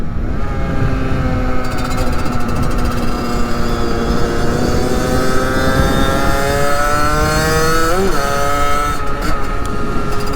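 A 50cc moped engine drones loudly while being ridden, its rising and falling harmonic whine shifting with speed over heavy wind rumble, with a brief pitch change near the end.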